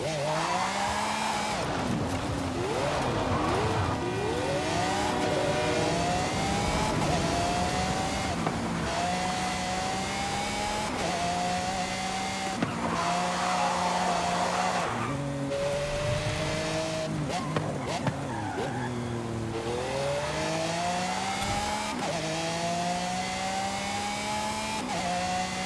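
An S1 900 class hypercar engine in Forza Horizon 5 revs hard through repeated rising gear pulls, each climb cut by a shift, loud and continuous over about twenty-five seconds, with occasional tire squeal.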